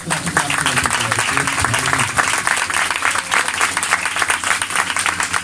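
A congregation at a church service claps loudly and steadily in a strong round of applause, with a voice faintly audible beneath the dense clapping.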